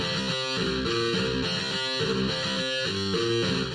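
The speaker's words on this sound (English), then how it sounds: "It sounds like this old plugin I used to use that was a fake guitar in FL Studio called" Slayer, an old fake-guitar plugin in FL Studio, plays a distorted, synthetic rock riff with chugging repeated chords in a steady rhythm, loud and continuous with no voices.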